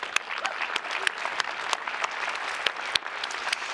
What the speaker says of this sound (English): Let's have a big round of applause for Hot Mama Salsa